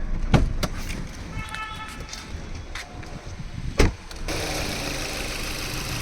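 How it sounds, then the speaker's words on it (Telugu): A 2022 Maruti Suzuki Brezza VXi petrol engine idles with a quiet, steady hum, with a few sharp clicks and knocks near the start and a brief louder burst shortly before a faint hiss rises toward the end. "ఇంజిన్ అయితే అసలు నాయిస్ లేదండి, చాలా సైలెంట్గా ఉంది"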